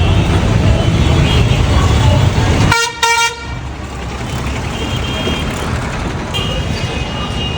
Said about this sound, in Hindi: वीडियो में आपको पता लगा होगा कि गाड़ी निकल रही है, व्हीकल्स निकल रहे हैं, हॉर्न बज रहे हैं।